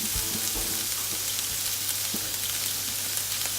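Sesame-crusted pork fries in sesame oil in a pan, giving a steady, close sizzle with a few small crackles and pops throughout, with no voices.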